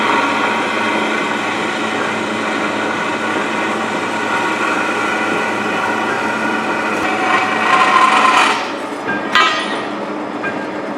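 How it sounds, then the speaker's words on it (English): Marble saw grinding through steel stock for a workbench frame, a continuous loud whining cut with a tonal ring, easing off near the end. "This marble saw will also make angled cuts, like I'm doing right here."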